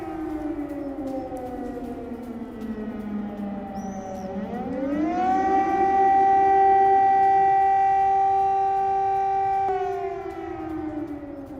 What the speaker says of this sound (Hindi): इजराइल के इलाद शहर में लगातार सायरन भी बज रहे हैं।